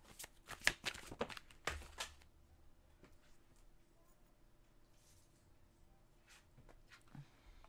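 Tarot cards shuffled by hand in a few quick riffling bursts near the start, then quiet handling with faint soft rustles and a small tap.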